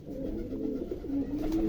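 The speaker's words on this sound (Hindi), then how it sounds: "ये कमान घर कबूतर है फ्रेंड्स" A female Kaman Ghar pigeon coos in low, throaty, rolling phrases, close and steady throughout.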